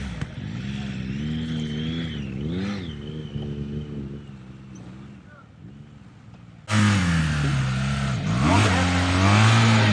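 Engine of a BMW motorcycle at a trials hill climb competition, a close droning note that rises and falls with revs, then a sudden louder, harsher burst of throttle toward the end.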